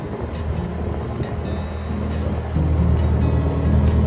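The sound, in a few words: wind blowing on a canal boat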